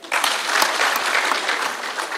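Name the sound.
crowd applause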